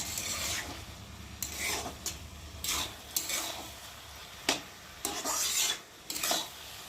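A spatula scrapes and stirs bottle gourd and prawns in a pan, a series of rough rasping strokes in an irregular rhythm, close and moderately loud, with no talking.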